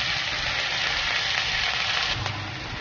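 Two medium chopped onions frying in a pan for a minty soya taco, a steady, close, loud sizzle that holds evenly throughout with no voices.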